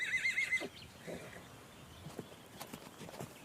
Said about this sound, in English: These wild mountain horses are quick learners.